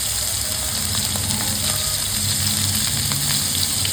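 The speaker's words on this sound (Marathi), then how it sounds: "असे दोन्ही बाजूने घ्यायचे आहेत आणि गरम तेलामध्ये सोडायचे" Surmai fish frying in a pan of hot oil, a steady, dense sizzle with crackling spitting throughout, close and continuous with a low hum underneath and no talking.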